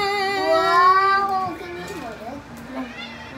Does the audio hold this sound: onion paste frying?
no